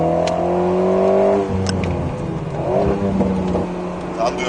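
Alpine A110 S engine on a race circuit, steady harmonic drone that drops after a lift-off, then builds again as the car regains speed, heard from inside the cabin with an instructor's voice over it.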